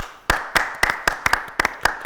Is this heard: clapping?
yes